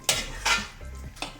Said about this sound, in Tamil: கொஞ்சம் நல்லா இந்த மாதிரி பதம் வர மாதிரி கிண்டி எடுத்துடுங்க.